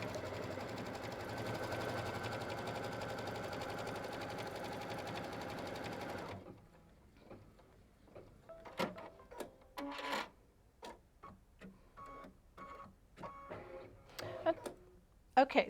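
A sewing machine stitches a line down the center of a quilt, running steadily and close, then stops and gives way to scattered clicks and handling noises.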